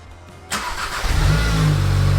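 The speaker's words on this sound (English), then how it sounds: "I start revving the engine" A VW Golf R MK7.5 with a turbo muffler delete fires up after a short starter crank and settles into a loud, throaty, rising engine roar close by.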